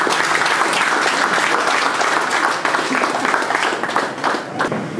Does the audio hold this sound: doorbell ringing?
no